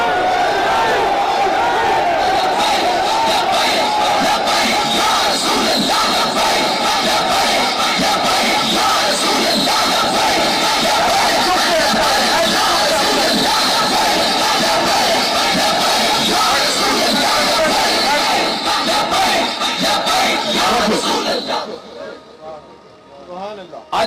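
A large crowd at a rally roars and chants slogans in loud rhythmic unison for over twenty seconds, dense and continuous, before fading into quieter voices at the end.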